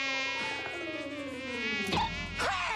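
A bee's wavering, harmonic-rich buzz drones steadily close by, its pitch sliding and bending before a sharp rise near the end, with no talk over it.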